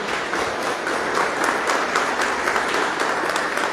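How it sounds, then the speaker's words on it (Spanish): Congregation applauding during a church gathering after a prayer, a loud, continuous spread of many hands clapping in a reverberant room, sustained evenly throughout without speech. "Vamos a darle un fuerte aplauso a Cristo."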